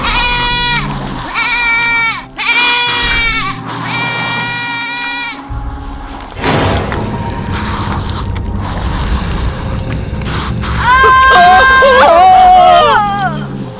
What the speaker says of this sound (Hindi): तभी उन्होंने देखा कि एक बकरी घूमती हुई गुफा के अंदर आ गई है।